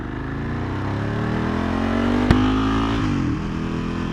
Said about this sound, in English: I always forget that this bike is essentially, it's a road going race bike.